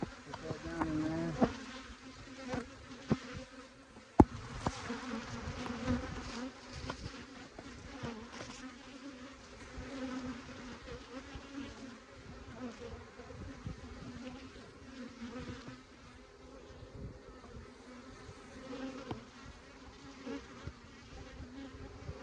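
Honeybees buzz around an open beehive being split, with queen cells moved between boxes: a faint, steady swarm drone that lasts throughout, broken by occasional sharp knocks of hive handling nearby.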